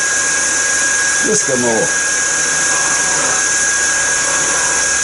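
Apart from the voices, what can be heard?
lathe running while rod is cut with scraper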